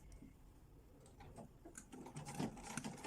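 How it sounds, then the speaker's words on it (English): A sewing machine stitching a bias strip onto a neckline, a quiet, fast mechanical ticking whir that grows slightly louder toward the end. "once I start sewing and I get towards the shoulder"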